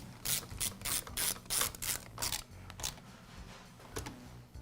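Nuts being tightened on the air filter housing of a Poulan chainsaw, giving a series of quick, close ratcheting clicks in bursts with short pauses, mechanical and fairly loud, with no talk.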